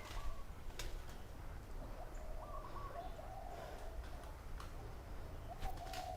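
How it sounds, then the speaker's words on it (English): Large birds coo softly outdoors, with a few low repeated calls rising over a steady hiss of ambient background noise, with no talking. "Big birds."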